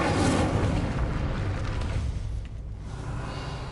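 Incendio fire spell cast in Hogwarts Legacy, a dense roaring burst of flame that fills the clip loudly and steadily, with a slight dip near the end.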